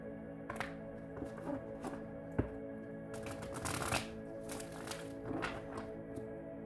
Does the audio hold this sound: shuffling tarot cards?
yes